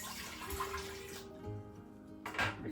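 Roughly two cups of water splash briefly into a Crockpot Express pressure cooker, a short faint pour followed by quiet and a final small splash.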